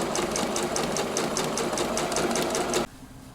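Sewing machine stitching steadily with the presser foot lowered while making gathers on a frock, a close, continuous rhythmic whir of fast needle strokes that cuts off abruptly near the end.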